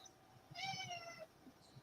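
A house cat gives a single drawn-out meow, fairly faint and distant, against quiet room background with soft low thumps.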